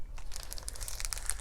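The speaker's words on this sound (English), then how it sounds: "She's got some shredded paper in here for added protection to my plants." Shredded paper packing inside a mailed plant box crinkles and rustles close up in a quick series of crisp crunches, with no talking.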